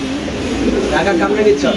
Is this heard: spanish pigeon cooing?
yes